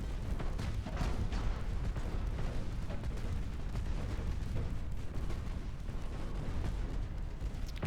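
Warship secondary guns firing in Ultimate Admiral: Dreadnoughts, a dense barrage of heavy booms and rumbling blasts overlapping continuously, loud and thundering with no pause.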